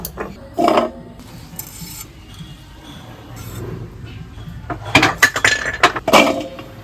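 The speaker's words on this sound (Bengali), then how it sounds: "এইবার আমি খাটো খাটো করে দেখুন এই ছোট ছোট করে আমি কেটে নিচ্ছি" Young vegetable stalks chopped into small pieces on a board, with a few clusters of sharp close knife chops and clinks between quieter pauses, no talk.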